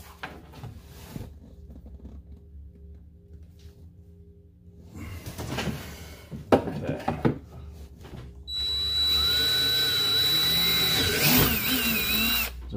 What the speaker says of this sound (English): We are going to take a 7/16 drill bit and we are going to drill right at that dimple.